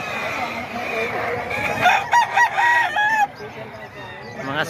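Boss Eric's sweater gamefowl roosters at a Bocaue chicken market give a clear, fairly close crow in the middle, with clucking and a voice around it.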